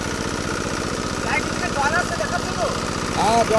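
A Chinese soil-cutting machine driven by a pump engine, a steady throbbing idle with a low rumble that runs continuously and close, while people talk over it.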